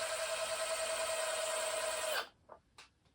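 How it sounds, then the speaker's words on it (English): A 2mm bit drills into a ship model part with a steady, loud electric whine that runs for about two seconds, then cuts off abruptly, leaving a few faint clicks and handling noises. "Thank God it's a 2mm drill"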